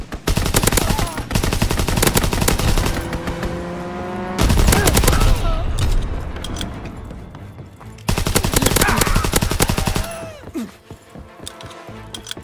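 Rapid bursts of aircraft strafing gunfire in the World War II shooter Call of Duty WW2, loud dense crackling volleys in three separate waves with brief lulls between, plus some engine-like tonal sweeps.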